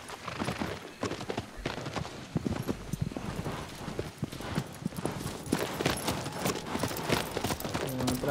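Horse hooves clip-clop in Shadow of the Colossus as the horse trots along, a busy, steady rhythm of hoof strikes across rough ground.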